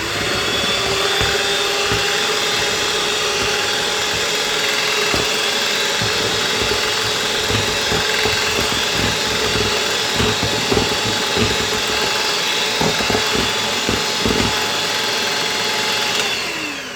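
Electric hand mixer beating egg yolks on high speed for a yogurt chiffon cake, a steady loud whirring motor drone with faint rattling against the bowl running continuously without speech.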